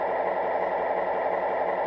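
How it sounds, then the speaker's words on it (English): Sound effect from an MTH Rail King PRR SW9 switcher model train: a steady, close diesel engine idle with an even rumbling drone, continuous and unchanging, with no voices. "Engine sound 1."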